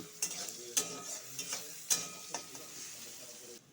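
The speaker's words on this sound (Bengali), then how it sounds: "পরিমাণ মতন নুন দিয়ে দিব একটা হলুদ দিয়ে দিব পেস্টটা ভালো করে ভেজে দিব" Spice paste with salt and turmeric frying in a pan, stirred with a few sharp spatula scrapes over a steady soft sizzle, close and fairly quiet.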